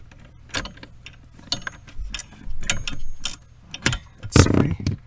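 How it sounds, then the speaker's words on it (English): A small hand ratchet clicks in short, quick bursts of close, crisp ticks while turning a bolt on the brake module of a Genesis GV80, with brief pauses between strokes. "I can use the smaller ratchet."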